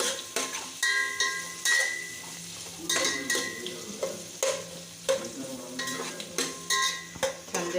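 Onions and green chilies frying with cumin in a pan, with lively sizzling under repeated scraping and clattering strokes of a spoon against the metal, and no one talking.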